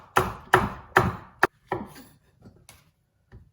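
A knife chops vegetables for a mirepoix on a cutting board, several loud close thuds in quick succession, then a few softer, sparser chops fading out, with no voices.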